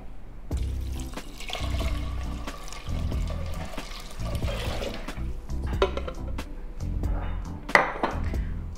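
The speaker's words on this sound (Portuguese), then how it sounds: "Vou juntar 1 litro de água." A litre of water poured into a pressure cooker holding soaked hominy, a continuous splashing stream with irregular bursts and clatter, close and moderately loud.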